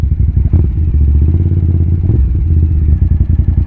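Suzuki TL1000R big bike engine while riding: a steady, loud, close-up drone with a slight pitch shift partway through, and no talk over it.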